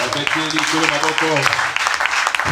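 A church congregation claps in acclamation during a worship service, bursts of applause rising under voices that keep sounding over it.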